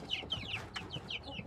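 Young black chickens cluck in quick, high bursts inside a chicken house, several birds close by in an uneven, chattering rhythm.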